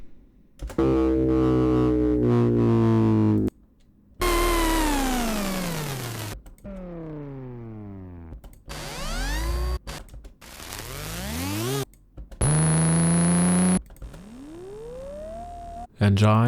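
A run of synthetic engine effects: rumbling tones that rev up and wind down in pitch, separated by brief gaps, loud and close.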